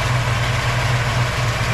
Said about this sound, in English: A little older exhaust, but it still sounds great.